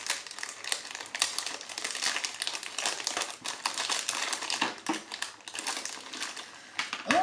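Packaging of a new drawing pen being unwrapped up close, with continuous crinkling and rustling of plastic and paper for several seconds, steady and fairly loud with no talking.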